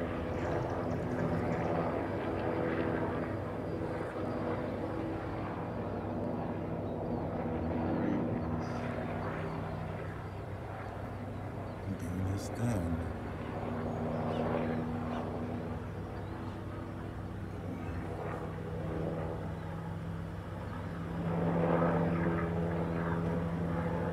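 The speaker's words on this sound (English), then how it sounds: "It's a lot of gas that helicopter's wasting. Just going around and around." A helicopter circles overhead, its steady rotor and engine drone rising and falling slightly as it passes, fairly loud throughout with a swell near the end.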